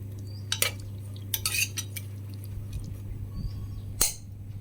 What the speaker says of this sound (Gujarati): હવે આપણે કુકરને બંધ કરી દઈશું